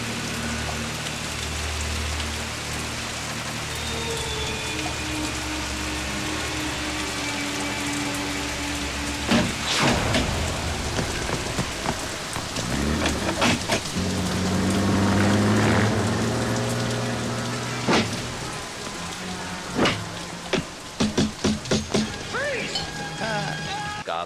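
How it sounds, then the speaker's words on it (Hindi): Heavy stormy rain falls outside, a constant hissing patter under a low hum, broken by occasional knocks and thumps near the end. "बाहर तो देखो, जबरदस्त तूफानी बारिश हो रही है।"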